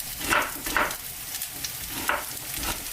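Carrots and whole garlic cloves sizzle in a frying pan while being stir-fried for a tomato pasta. A soft, steady frying hiss rises in a few brief bursts as the ingredients are stirred. No one speaks.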